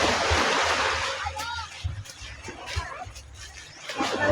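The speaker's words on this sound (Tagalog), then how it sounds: "Ang lakas na nung agos." Strong current of flowing water rushes and splashes loudly at first, easing to a softer churning wash while people talk over it outdoors.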